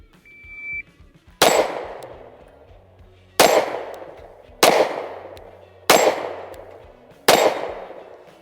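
Five loud Sig P365 pistol shots ring out at an outdoor range, spaced about one to two seconds apart, each a sharp crack with a ringing metallic decay, and a brief faint tone sounds before the first.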